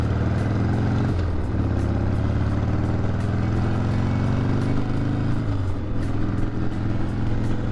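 An end-of-season motorcycle ride on an open road gives a constant, close engine drone mixed with wind rush, its pitch shifting briefly as the rider changes gear.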